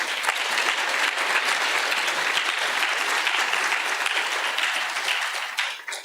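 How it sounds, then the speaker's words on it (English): Loud, dense applause from a large crowd, sustained evenly before tapering off at the very end. "A big round of applause for her."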